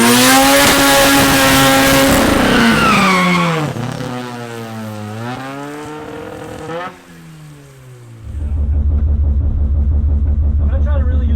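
Race car engine on a drag strip, loud and close, revving high and shifting as pitch climbs and falls, then settling into a deep steady rumble; a person talks over it.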